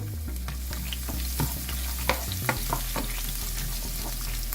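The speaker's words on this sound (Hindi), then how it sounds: "इसको अच्छी तरह फ्राई कर लेंगे।" Steady sizzling of chopped garlic frying in hot oil, with a few sharp clinks of stirring scattered throughout; no voices.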